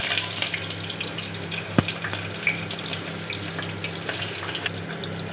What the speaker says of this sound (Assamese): আৰু এতিয়া মই পিয়াজখিনি ৰঙচুৱা হোৱালৈকে ভাজি ল'ম